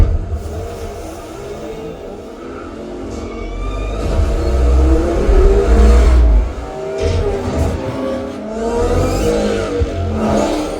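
A car engine revs and roars in the Ready Player One film soundtrack over a dense, busy background, rising and falling in loudness across several surges.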